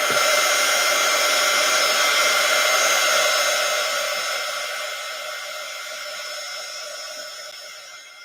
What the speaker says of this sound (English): Let me get my handy dandy drying tool again.